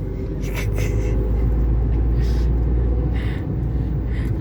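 A car drives close behind a truck down a narrow ghat road at Khambatki, with a loud steady low engine and road rumble and brief whooshes of passing air.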